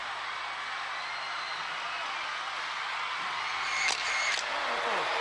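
A Birmingham arena crowd cheers at a Gladiators event, a broad, steady wash of noise from a distance, rising a little near the end and broken by a couple of sharp clicks.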